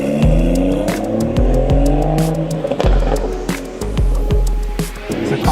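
A BMW 340i with the B58 engine and six-speed manual drives off, its engine revving up through rising pulls with sharp breaks between gears, loud and close, with some tyre noise and no talking.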